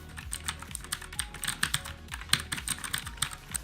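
Rapid clicky keystrokes on a budget semi-mechanical gaming keyboard with blue-switch-like sound, a dense irregular run of sharp close taps heard alone.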